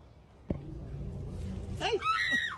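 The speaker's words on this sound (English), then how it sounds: "This dog scream sounded exactly like a human." A dog lets out a human-like scream, a short rising and falling shrill cry near the end, over a steady background murmur after an earlier sharp knock.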